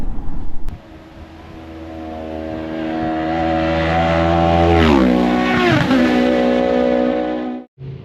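A racing sidecar outfit at the Isle of Man TT roars past at close range, its engine note rising in pitch, peaking, then dropping sharply in a Doppler sweep before fading away, with no talking.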